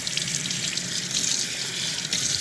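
Warm tap water running over a 90% silver coin being rinsed after cleaning with baking soda, a steady close splashing stream into a sink with slight fluctuations.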